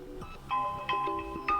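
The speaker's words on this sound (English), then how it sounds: "I will show you all of the ringtones that you can use." A Sony Xperia L4 ringtone plays, a bright electronic melody of short tonal notes struck in a quick rhythmic pattern, clear and alone.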